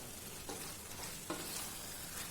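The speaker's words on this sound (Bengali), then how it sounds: "এটাকে আমি ভালো করে এখন কষতে থাকবো কিছুক্ষণ।" Marinated chicken sizzles steadily in a pan for a chicken pulao, with a few soft scrapes of stirring and sautéing over a continuous frying hiss, close and moderately quiet, no voices.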